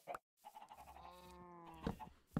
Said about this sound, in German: Da hinten ist auf jeden Fall ein Schaf